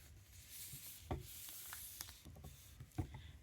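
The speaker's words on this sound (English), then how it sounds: "And then I'm going to burnish it, and that creates an additional pocket." Paper folio for a junk journal being burnished, a steady close rubbing and scraping with a few sharper knocks against the work surface.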